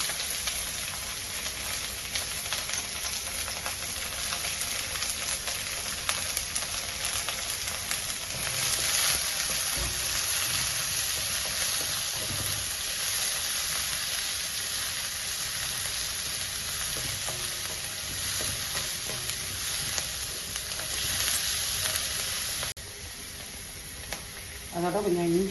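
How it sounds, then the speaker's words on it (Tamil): Chopped medium onions and curry leaves frying in oil in a pan for a chicken gravy, a steady close sizzle with occasional stirring scrapes, continuous throughout and with no one talking. "இதோட வெங்காயம் 2 வெங்காயம் அடிச்சு வச்சுருக்கேன், மீடியம் சைஸு. அதையும் போட்டு வறுத்துக்கேன்"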